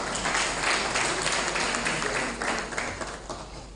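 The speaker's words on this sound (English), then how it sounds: "Please a round of applause for him." An audience at an African Traditional Medicine Day 2024 ceremony applauds, a broad, fairly loud clapping wash that swells and eases slightly over a few seconds, with no one speaking.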